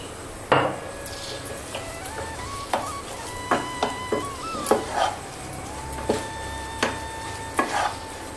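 A spoon scraping and knocking in a pan while kheer with milk, khoya and a spoonful of ghee is stirred on a low flame, close irregular clinks and scrapes repeating every second or so over a faint steady background.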